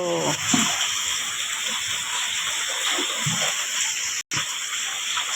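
Flooding rainwater flows in waves near the front steps of a house, a loud, continuous rushing and splashing that fills the whole stretch without a break and with no voices.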